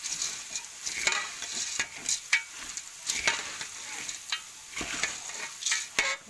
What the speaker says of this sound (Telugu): పసుపు వేసుకున్న తర్వాత మరమరాలు వేసుకోవాలి. వేసుకొని మంచిగా కలుపుకున్నాం.